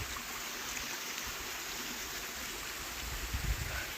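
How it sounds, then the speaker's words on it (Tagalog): A stream near a house in the Scottish Highlands flows with a constant broadband rush of water, steady and moderately near, with no voices. "Naririnig niyo yung tubig, guys?"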